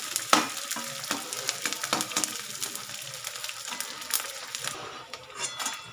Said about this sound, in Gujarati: આપણે ગુંદર તળવાનો છે